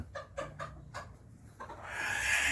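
A small American Silkie hen gives a quick series of soft, rhythmic clucks close by, followed by a rising hiss of background noise.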